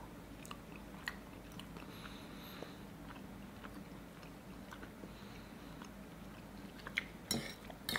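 Pasta with pesto and tuna is tasted from a plate, with faint close chewing and soft mouth sounds, occasional light clinks of cutlery and a louder clatter near the end, over a quiet room background.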